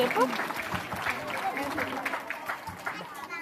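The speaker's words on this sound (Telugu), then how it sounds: "శివసాకేత్కి give a big round of applause" Audience applause at a school annual day program, a dense patter of clapping hands filling the hall, steady and moderately loud with crowd murmur mixed in.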